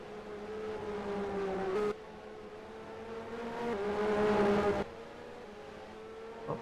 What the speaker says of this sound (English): Jeff Lees there with a very decent move as he goes side by side with Eddie Cheever